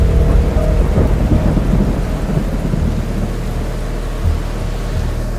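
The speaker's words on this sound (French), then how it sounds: "J'ai tort ou une tempête se prépare?" A thunderstorm rumbles outdoors, deep rolling thunder under continuous rain, loudest at the start and settling into a steady low roar with no voices.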